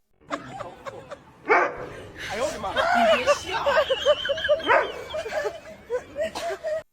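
Dogs being dressed in clothes give short barks, yips and whimpers, mixed with people talking and laughing close by.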